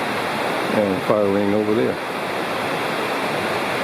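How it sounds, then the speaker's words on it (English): Roaring river rapids and cascades in the Bald River Gorge wilderness, a steady broadband rush heard from a campsite above, continuous and fairly loud, with someone speaking briefly over it. "the roaring big Ball River Gorge down there, which is starting to get much less tame, much more rapids and cascades and all"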